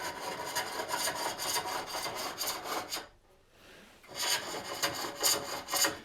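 A scraper cuts a wooden bowl on a spring pole lathe, giving dense rasping, rubbing strokes that run close and steady, break off for about a second, then resume with the same texture and no talk.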